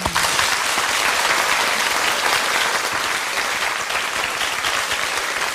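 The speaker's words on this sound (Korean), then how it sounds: "학생들을 응원하는 의미에서 큰 박수로 격려의 박수를 보내드리겠습니다." A crowd applauds steadily, dense clapping sustained at an even level throughout with no voices breaking through.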